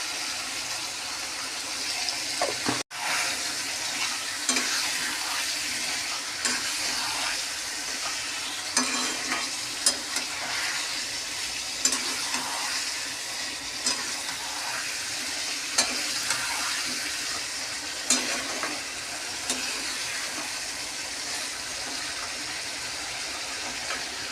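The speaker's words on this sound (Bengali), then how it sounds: "এবার এটা ভালো করে মশলাটা আগে কষি।" Goat meat curry masala being stirred and fried in a pan, a steady moderate sizzle with scattered scraping clicks of the spoon throughout, and one sharp knock early on.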